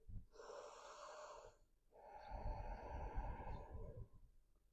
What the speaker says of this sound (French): N'hésitez pas, à avoir une respiration sonore.